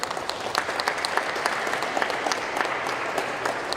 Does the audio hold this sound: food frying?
no